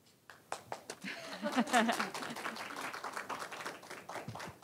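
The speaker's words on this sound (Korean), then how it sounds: "그러면 박수로 청해 듣겠습니다" Seminar audience at a joint hospital-discharge care seminar applauds to welcome a university professor, a patter of scattered claps swelling in the middle then thinning, moderately distant and fairly quiet, with faint voices.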